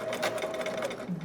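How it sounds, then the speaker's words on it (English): A domestic sewing machine runs briefly as it stitches straight off a fold in fabric for a hood, a close, even mechanical whir with a faint hum. "And stitching right off that fold."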